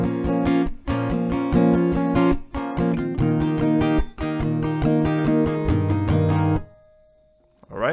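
Acoustic guitar strums through a slow chord progression, bright full chords with brief gaps between changes, ending on a ringing chord that fades.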